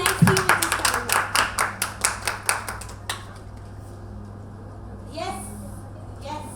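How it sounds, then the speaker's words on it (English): A group claps at a wellness programme event, a short burst of steady, evenly spaced hand claps lasting about three seconds before dying away into quiet room noise with faint voices. "Give them a round of applause."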